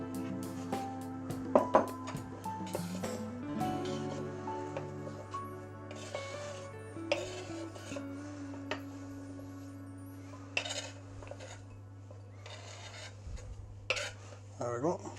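Peeled, diced sweet potato being tipped and scraped into a bowl, with soft clinks and rubbing knocks against the dish over a low steady hum, fairly quiet and close.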